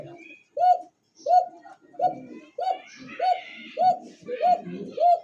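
A racer pigeon coos in a quick, regular series of short throaty notes, close and clear, with voices faintly mixed into the background at a pigeon market.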